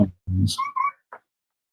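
A house cat whimpers up close in a few short plaintive meows and soft cries with gaps between them, and no one speaks over it.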